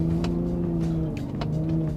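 A 2022 Hennessey VelociRaptor 600 pickup truck at full throttle, its engine droning loud and steady throughout with a brief dip mid-run as it shifts quickly.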